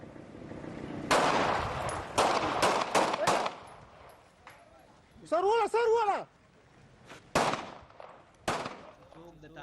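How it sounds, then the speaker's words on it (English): Gunshots in a street execution from a Taliban propaganda film in Swat, several sharp bursts of loud gunfire in quick succession, with a shouting voice midway and further isolated shots afterwards. "A man accused of burglary is very publicly shot dead in the street"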